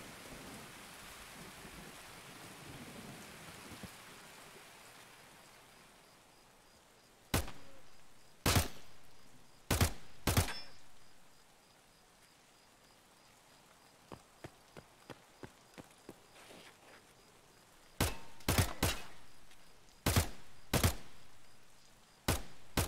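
Video game gunfire arrives as sharp, isolated shots in small clusters of two or three, separated by long quiet gaps over a soft hissing background.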